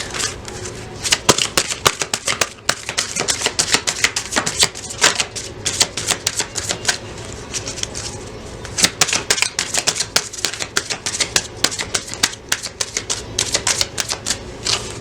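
A deck of tarot cards is shuffled up close, with rapid riffling flutters and crisp snapping bursts repeating unevenly throughout.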